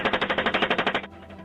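Rapid burst from an Apache helicopter's 30mm cannon, roughly a dozen evenly paced rounds followed by a low rumbling decay, heard at a distance with no voices.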